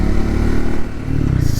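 A heavy motorcycle on a one-day coastal ride near Pune, its engine running loud and close with a steady low rumble throughout.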